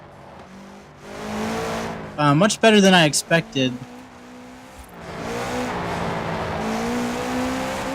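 A 2013 Subaru BRZ race build in Forza Horizon 4 drives a circuit, its engine droning steadily with a burst of sharp revving or tire noise in the middle, while someone talks over it.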